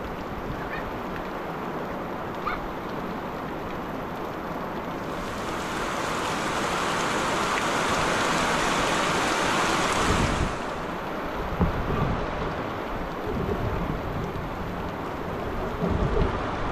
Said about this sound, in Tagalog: Napura tayo ng ulan.